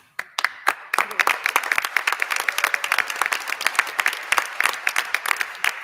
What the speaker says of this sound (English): So let's have one more round of applause for all our teams tonight